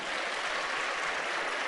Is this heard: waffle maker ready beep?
no